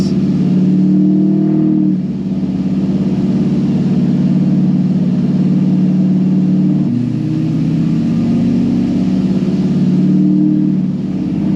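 A Duramax diesel pickup with its EGR removed drives along, its engine a loud, steady low drone heard from inside the cab, rising and falling slightly with throttle.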